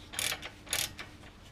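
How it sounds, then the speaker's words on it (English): A 1/2 inch drive ratchet with a 17mm socket works a lower ball joint nut on a 2005 Acura TL, giving two quick bursts of clicking ratchet pawl noise, close and moderately quiet. "we're going to use a 1/2" drive ratchet with the 17mm socket"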